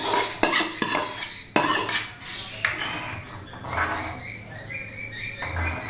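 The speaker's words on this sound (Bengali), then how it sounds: "একবারে আমি সাবু আর জল দিয়ে দিচ্ছি" Soaked sago and water tipped into a metal pot in a home kitchen while making sago papad, with a few sharp clanks of utensil on pot, then splashing and stirring scrapes, close and fairly loud.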